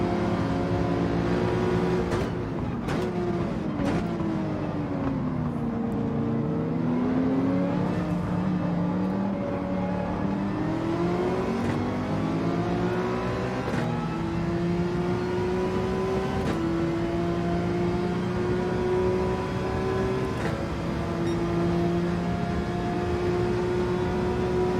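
A Porsche race car in Gran Turismo 7 rises and falls in pitch as it climbs through the gears and brakes on a mountain trail circuit. The engine note is loud and continuous, with quick shift blips.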